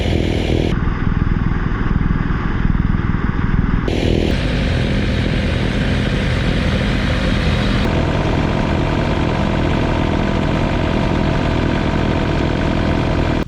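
A John Deere 2032R cab tractor with a 54-inch snow blower chews through hard-packed ice and snow in below-zero cold, its engine a loud, steady close drone that shifts in tone partway through.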